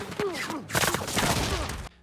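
Gunfire erupts in a film battle as hijackers attack, a rapid fusillade of loud, overlapping shots with cries mixed in that ends abruptly into silence.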